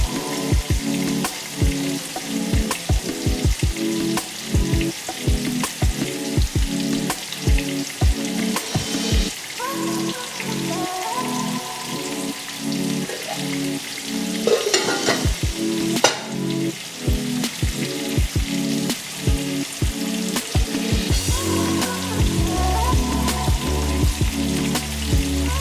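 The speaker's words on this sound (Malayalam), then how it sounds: "അതിന് ശേഷമാണ് ഇനി 2ാമത്തെ കോട്ടിങ് കൊടുത്തിട്ട് ഇത് ഫ്രൈ ചെയ്തെടുക്കുന്നത്." Double-coated sesame chicken pieces deep fry in hot oil, a loud, continuous bubbling sizzle with occasional stirring, close up, with background music running underneath.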